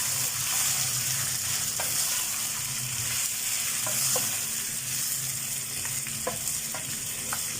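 Chicken pieces fry with browned onions in a pan, a dense, loud, steady sizzle with occasional faint spatula clicks and stirring scrapes close by.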